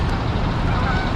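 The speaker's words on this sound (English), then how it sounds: "you hear the geese are calling." Geese honk amid a dense, noisy outdoor wash at a flooded riverside RV campground, the calls blending into a constant clamor.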